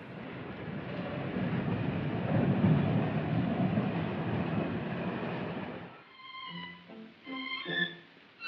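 A newly inaugurated Moscow metro subway train gives a steady, loud rumble for about six seconds, then the rumble drops away, leaving sparse tonal sounds.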